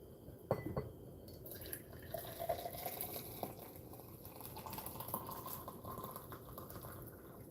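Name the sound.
pouring scalding hot water into a glass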